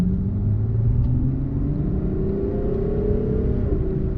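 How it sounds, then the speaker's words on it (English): A smooth, powerful Ferrari FF V12 engine revs steadily and loudly up close in sport mode, its pitch climbing gradually with a continuous rumbling hum. "That's such a smooth, silky sound. It's that amazing V12 from Ferrari."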